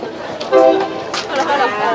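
Train at a Thai railway, a loud rumbling passage with a short horn-like tonal burst and chattering people nearby, noisy and close.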